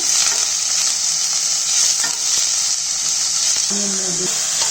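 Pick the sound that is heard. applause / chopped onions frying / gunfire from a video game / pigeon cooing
chopped onions frying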